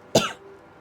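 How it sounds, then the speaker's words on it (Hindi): A single sharp cough bursts out close and loud, then fades quickly into quiet room tone. "जैसे अभी मेरे को थोड़ी खांसी आई"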